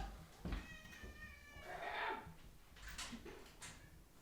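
A house cat meows repeatedly indoors, asking to be let outside. The drawn-out, fairly faint cries come one after another, with some quiet voices in the background.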